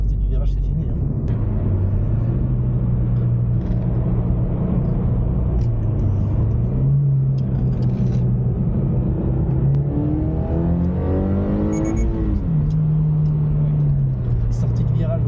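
A Toyota GR86 sports car accelerates out of a corner in second gear, its engine note rising and falling loud and close throughout, with people talking over it.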